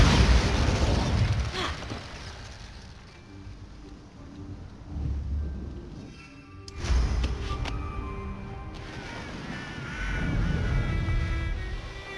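Spell blasts and explosions from combat in the video game Hogwarts Legacy: several loud booming bursts rise and fade across the clip, with crackling magical effects and layered game sound and no speech.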